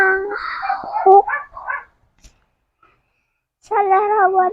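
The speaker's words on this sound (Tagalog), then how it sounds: "Mas malakas pa yung aso." A dog barks in a quick run of harmonic yelps near the start, followed after a brief pause by a longer, louder stretch of barking, with some speech-like voice mixed in at the opening.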